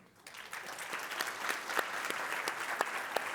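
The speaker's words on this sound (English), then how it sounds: "a final round of applause, please, for Sam and Nadia." Conference audience applauding after a private equity showcase presentation, a dense steady wash of many hands clapping at moderate distance, rising quickly and holding throughout.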